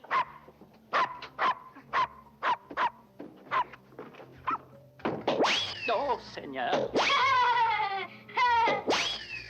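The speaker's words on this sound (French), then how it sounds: "Silence, mon chien." A dog barks repeatedly in short sharp bursts, then breaks into excited yelping and howling, with a voice briefly speaking.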